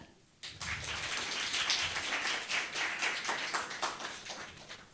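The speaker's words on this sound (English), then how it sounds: "So, 1, 2, 3, clap." Startup-competition audience breaks into clapping on cue after a brief quiet moment, a dense burst of hand claps that holds strong for a few seconds, then gradually thins.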